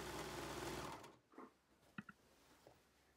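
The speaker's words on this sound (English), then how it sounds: "Here's a quick video showing what it looks like when I serge around the edges of my quilt." A serger runs around the edge of a quilt for about a second, a steady close whir that stops abruptly, followed by a few quiet clicks and handling sounds.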